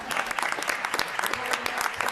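Dense, steady applause from an audience at a city council inauguration ceremony, many hands clapping continuously at moderate volume with faint voices mixed in.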